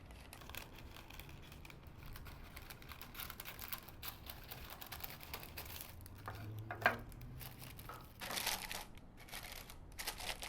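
Baking paper crinkles and rustles softly as it is pressed and fitted into a baking tin, giving faint close crackles with a slightly louder crumple near the end.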